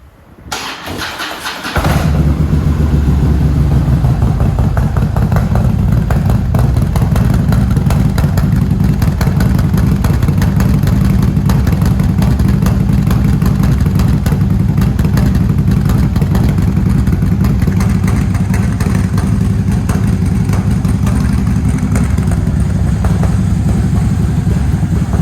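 A 2010 Harley-Davidson Road Glide fires up after a brief quiet moment, then its engine runs steadily at a loud, close, throbbing idle for the rest of the time, with no talking.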